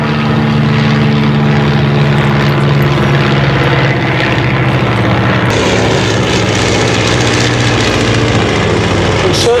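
Propeller engine of a Miles monoplane trainer aircraft flying at an evening airshow at Shuttleworth, a steady loud drone throughout, alone without talk.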